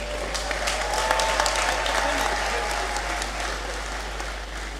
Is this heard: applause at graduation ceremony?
yes